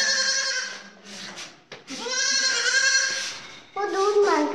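A goat bleats repeatedly and close by in a village farmyard setting, with several loud, wavering calls separated by short pauses.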